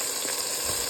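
A hilsa fish head fries with salt in a pan, giving a close, continuous hiss of sizzling oil across a brief moment, with no talking.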